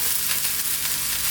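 Cabbage stir-frying and being stirred in a pan, a steady close hissing sizzle with faint scraping pulses and no talk.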